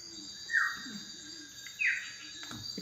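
A cuckoo dove in Indonesia calls twice, each call a short, soft, rising note with about a second between them, heard faintly against a quiet background hum with no talk.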